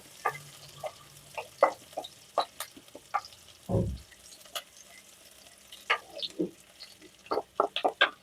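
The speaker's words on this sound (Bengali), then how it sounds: "পেঁয়াজটা বেশি ভাজবো না" Half a chopped onion fries lightly in a pan for a mustard pabda fish curry, giving a faint, low sizzle broken by scattered scraping and clicking stirs and one dull thump near the middle.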